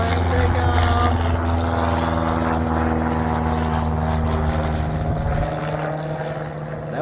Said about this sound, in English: Oh, there goes one plane. Take off.